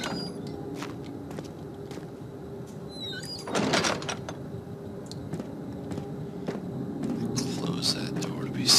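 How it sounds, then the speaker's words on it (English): A door closes in the horror game Amnesia with a sliding scrape and a solid thud, set among quiet creaks, small clicks and soft footsteps, with a faint voice under the sound. "Close that door to be safe."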